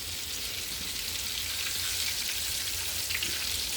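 Green tomato slices frying in a pan over medium-high heat give a steady, even sizzle with soft crackle, close and continuous with no voices.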